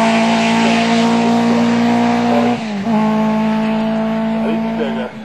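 A racing car at a St. Agatha hill-climb event holding a loud, sustained engine note near the microphone, briefly dipping as it shifts gear, then pulling strongly again while it drives away.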